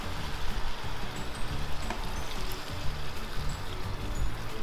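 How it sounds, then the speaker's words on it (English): Water is poured into a cooking pot holding carrots and potatoes, a steady close rushing splash that runs unbroken for several seconds. "And then we will put a little water."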